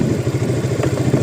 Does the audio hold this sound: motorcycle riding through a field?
yes